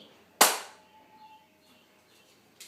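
A single sharp hand clap lands on the count in a dance routine, loud and close, followed by near quiet with a faint tick near the end.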